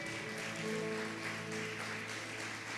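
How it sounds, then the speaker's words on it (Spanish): A church congregation applauds, with continuous hand clapping filling the hall and a sustained musical tone underneath. "Dele un aplauso fuerte al Señor"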